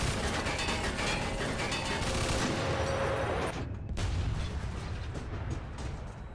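Heavy machine gun fire in the video game Mafia 2, with a tank nearby: a loud, continuous barrage of rapid shots and booms that keeps up for several seconds with no pause.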